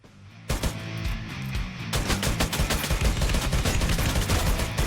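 Rapid automatic gunfire in the Free Fire battle royale game, a dense rattling barrage of shots that starts abruptly after a brief quiet moment and keeps going loud and continuous to the end.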